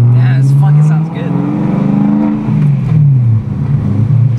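A rebuilt car engine revs hard and close, its loud growl rising and falling several times in a row.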